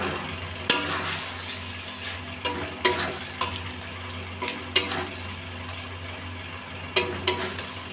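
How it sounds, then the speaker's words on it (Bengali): Pointed gourd (potol) stir-fries over a low gas flame, with a steady gentle sizzle under repeated sharp spatula scrapes and knocks against the pan, spaced a second or two apart. "গ্যাসের ফ্লেমটা কমিয়ে 2 মিনিট ধরে আমি ভালো করে পটলগুলো কষতে থাকবো।"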